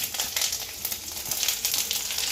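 Bay leaves, cumin seeds and chillies sizzle and crackle in hot oil for a Bengali radish ghonto, a steady loud fry with dense popping spatter and no talk.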